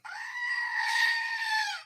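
A goat gives one sustained, wavering bleat lasting nearly two seconds, loud and close with a strained, nasal tone and no other sounds.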